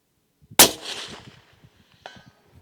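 A single sharp rifle shot cracks out close and loud, followed by a brief decaying echo and a faint later clatter, with soft background rumble around it.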